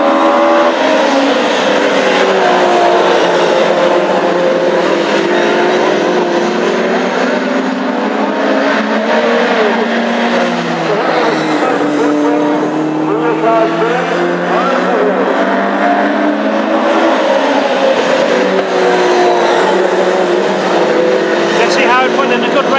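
Classic hot rod race cars lap a big oval track at Tipperary during the Irish Grand Prix final, their engines roaring loudly and continuously throughout while a commentator talks over the racing.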